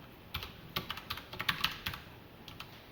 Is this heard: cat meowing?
no